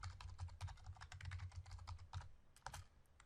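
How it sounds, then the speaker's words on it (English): Typing on a computer keyboard while entering an Oracle SQL statement, a quick, steady stream of close, crisp key clicks with a few louder strokes and no talk. "Let's type it."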